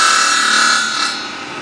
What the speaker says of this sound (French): La découpe à la scie circulaire.